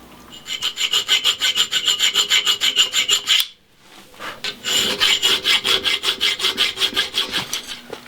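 A hand file rasps in fast, even back-and-forth strokes along the curve of a steel throwing knife cut from shear blades. The strokes are close and loud, with a short pause midway before the filing resumes. No one talks.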